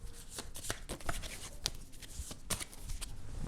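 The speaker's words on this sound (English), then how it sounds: "So I'm going to shuffle those up" Board game event cards being shuffled by hand: a run of quiet, close riffling and slapping card sounds, irregular and soft, with no talking.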